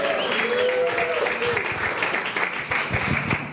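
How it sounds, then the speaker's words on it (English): Audience applause during a spiritual living center service, a dense wash of clapping from many people, steady and fairly loud, fading slightly toward the end. "Let's give another round of applause."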